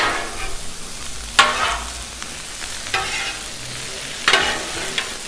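Garlic sauce sizzling on a Blackstone griddle while being stirred, a constant soft fry broken by several sharp spatula scrapes and taps against the flat top.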